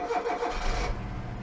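A car engine cranking over and firing into a running idle, heard up close in a workshop during in-cylinder pressure diagnostics, steady mid-pitched rumble with no talking.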